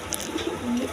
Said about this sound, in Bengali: দর্শকবৃন্দ দেখেন এখানে এক পেয়ার কবুতর